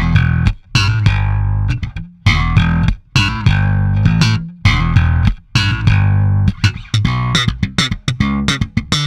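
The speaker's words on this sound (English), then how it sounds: "the Studio combos have a built-in distortion and one with an astonishing amount of gain actually" An Ashdown Studio bass combo's built-in high-gain distortion plays choppy riffs with abrupt stops, loud and gritty, no voices.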